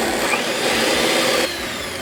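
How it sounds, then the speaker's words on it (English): Electric whisk running continuously as it beats an egg mixture for a Swiss roll sponge, giving a loud steady motor whine throughout with a slight shift in tone partway through. "I'm going to whisk this for about 3 to 4 minutes"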